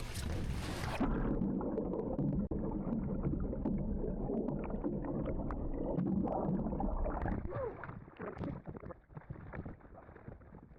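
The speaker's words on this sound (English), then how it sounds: "the side of the canoe is starting to dip beneath the water here" A canoe tips over with a sudden splash, then water churns and gurgles around the hull, the sloshing growing choppier and more uneven toward the end.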